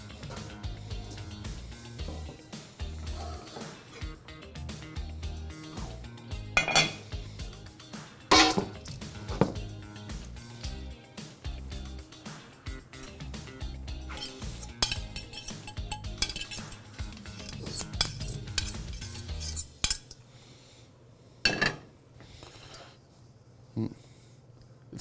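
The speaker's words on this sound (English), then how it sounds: "We use a fork to mix it around, just like you would with rice." Fork fluffing cooked quinoa in a pan, quick scraping and clinks of metal against the pan, irregular and close, with people talking over much of it.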